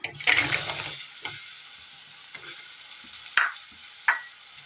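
Papaya pieces sizzle in a pan, with a loud burst at first, then a few scrapes and stirring knocks and quieter crackling.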